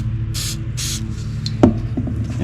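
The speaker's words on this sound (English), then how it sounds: "So I'm going to spray a little cooking spray on it" Two short, breathy hisses of aerosol cooking spray onto a sink and cabinet being fitted in a 2005 Ford E250 van, over a low background hum, followed by a soft knock.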